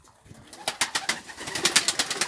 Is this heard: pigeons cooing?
yes